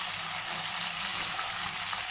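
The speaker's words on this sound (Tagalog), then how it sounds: "So, yan, gigisa-gisa lang natin siya." Onion and garlic sautéing in a pan for Kapampangan adobong sitaw, a dense, continuous sizzle with light stirring noises throughout, close and steady with no voices.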